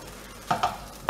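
Salmon and capers sizzle in a pan, with a few sharp bursts as they are stirred or tossed, over a steady hiss.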